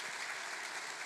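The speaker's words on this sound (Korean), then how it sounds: "여러분 박수로 응원해 주시기 바랍니다." Church congregation at a Sunday service applauding, a brief, steady wash of faint clapping without voices.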